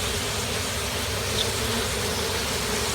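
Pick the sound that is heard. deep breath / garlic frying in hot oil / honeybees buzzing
honeybees buzzing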